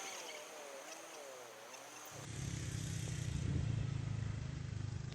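A small 110cc air-cooled motorcycle labors up a steep hill road on Lombok, Indonesia, its engine drone rising and thickening into a steady, close, rough hum after a quieter opening.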